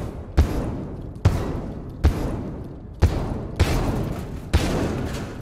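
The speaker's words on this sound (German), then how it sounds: "Die hauen die Tür ein!" In the video game GTFO, monsters batter a door in with six heavy booming thumps. The slams come at roughly even intervals, each loud and close with a rumbling tail, and no one speaks.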